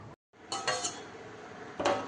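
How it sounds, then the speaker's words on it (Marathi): A lid is set onto a pot of milk left to set into curd, giving a few close metallic clinks and scrapes, with a sharper clank at the end. "आता ह्याच्यावरती झाकण ठेवायचं आहे."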